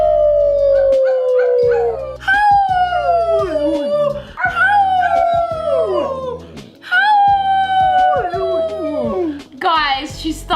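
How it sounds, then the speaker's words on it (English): A dog howls in long, rising and falling cries in repeated bouts, loud and close, with a person howling along beside it. "Guys, she started to howl."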